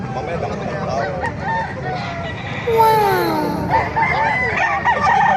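A rooster crows loudly at a chicken market in Bocaue, Bulacan, its call rising over chicken clucks and people talking nearby.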